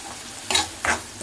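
Onions sautéing in a pan for mushroom masala give a low sizzle, broken by two quick scraping stirs.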